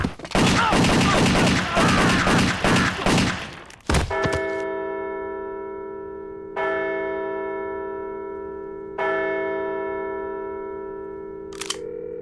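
A video game shootout bursts out as a dense, rapid volley of gunfire for about four seconds, then cuts off into long ringing chime-like tones struck a few times at intervals.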